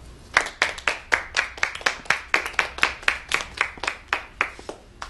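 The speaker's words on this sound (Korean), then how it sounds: "다 같이 박수!" A small group claps together in a brisk, even rhythm, about a dozen sharp close claps over five seconds with no speech.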